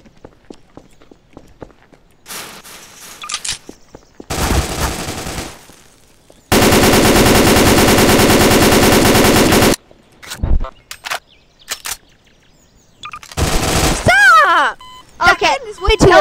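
In a Garry's Mod match, a Scorpion machine gun fires loud sustained automatic bursts, one lasting about three seconds, amid footsteps, shorter shots and excited voices.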